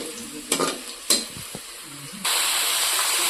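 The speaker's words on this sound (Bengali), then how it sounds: "তো পেঁয়াজটা ভাজা," Onions fry in a pan with a few quick scraping stirs near the start, then a loud, continuous hiss of sizzling oil takes over and holds steady to the end.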